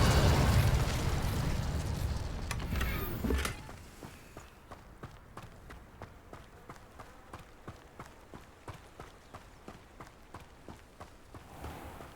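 A Revelio spell cast in the video game Hogwarts Legacy sounds as a loud, rushing magical burst that fades after a few seconds, followed by steady, evenly paced footsteps.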